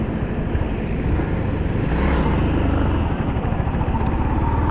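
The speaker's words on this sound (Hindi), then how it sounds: "सो थर्ड गियर में हल्का सा झटके के साथ में मेरी बाइक उठ चुकी है" A Yamaha MT-15 V2.0 motorcycle pulls away in third gear with a slight jerk, its engine giving a steady, loud, continuous drone that holds for the whole stretch.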